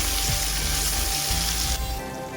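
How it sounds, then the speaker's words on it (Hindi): Steady sizzling and crackling of spices frying in a hot pan, loud and close, with a faint clink partway through and the hiss easing slightly near the end. "इसको भी हम साथ में फ्राई कर लेंगे"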